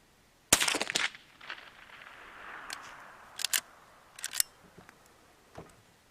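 A Henry Silver Eagle .22 lever-action carbine fired outdoors at a target, several sharp cracks spaced a second or so apart, some doubled, with quieter clicks of the action between them and no talking.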